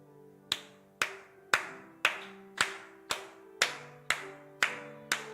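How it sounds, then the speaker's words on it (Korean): A church congregation claps together in steady unison during a hymn, ten sharp, evenly spaced claps about half a second apart over a sustained organ-like accompaniment, with no talking. "다 같이 한번 박수 치면서 시작."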